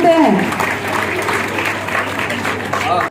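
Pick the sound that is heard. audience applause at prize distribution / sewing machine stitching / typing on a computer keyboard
audience applause at prize distribution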